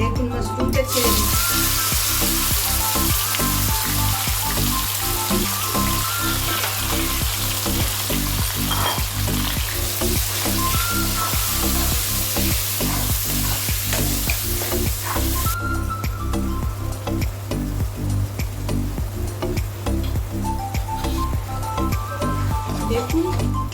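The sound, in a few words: mushrooms frying in mustard oil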